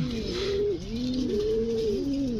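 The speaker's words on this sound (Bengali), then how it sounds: "কবুতর।" Pigeons coo in soft, repeated rising-and-falling calls, several birds overlapping in a steady rhythm close by, with a faint constant background hiss and no talking.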